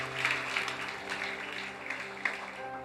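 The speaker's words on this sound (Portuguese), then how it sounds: "Dá uma salva de palmas ao Senhor." A congregation in a church applauds steadily with even, moderate clapping, while a faint sustained tone hums underneath.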